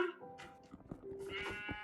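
A sheep bleats with a wavering, nasal cry, close and fairly loud, repeating in a few short pulses.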